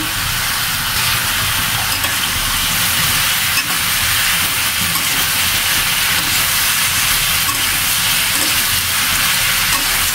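Bitter gourd sizzles loudly and continuously as it fries in a pan, with the scrape and rustle of stirring under a steady hiss.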